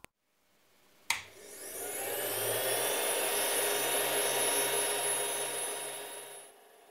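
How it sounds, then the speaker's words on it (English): Fans of a Creality CR-10 3D printer idle, the two power-supply fans plus the hot-end fan. A sharp click sets off a loud, steady whirring hum that holds for several seconds and then fades near the end. "in idle mode the printer is very loud because of the two fans in the power supply."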